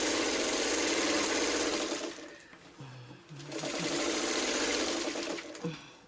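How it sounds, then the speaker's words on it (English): Domestic sewing machine stitching a quarter-inch seam down the side of fabric pieces for a Dresden-pattern purse, a loud steady whirring run that eases briefly in the middle, then picks back up. "I'm just going to take and put a 1/4 inch seam down each side"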